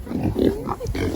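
Pigs grunting and oinking in a farm pen, short close snorts and squeals packed into about a second, with no talk.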